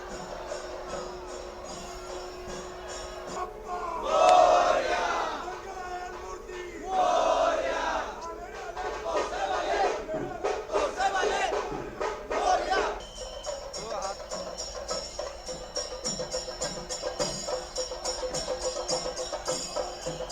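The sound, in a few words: festival procession crowd cheering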